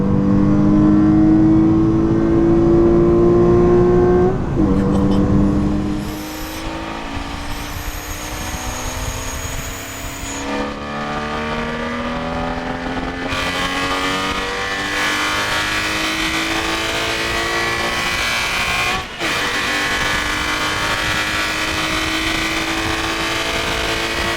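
A modified Porsche Boxster S engine with stock exhaust revs high and loud, then shifts through gears with rising and falling exhaust tones as it keeps accelerating, no talking.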